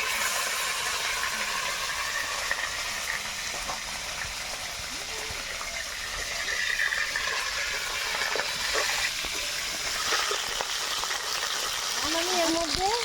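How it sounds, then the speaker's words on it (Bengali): Cauliflower florets frying lightly in hot oil, a steady loud hiss and crackle throughout with small bubbling pops, close up and continuous. "তো ফুলকপিগুলো আমি এখন ভেজে নেব, হালকা করে ভেজে নেব"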